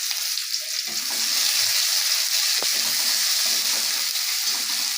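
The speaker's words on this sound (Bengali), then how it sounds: "গোটা জিরে দিয়ে দিলাম হাফ টিস্পুনের মতো ফোড়ন থেকে যখন সুগন্ধ বেরোবে এর মধ্যে পেঁয়াজ কুচি দিয়ে দিলাম" Chopped onion fries in hot oil with whole cumin seeds, giving a bright, steady close-up sizzle throughout, with a few faint low knocks of stirring in the pan.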